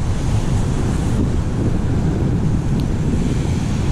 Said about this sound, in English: out here you can see the ocean's churned up pretty good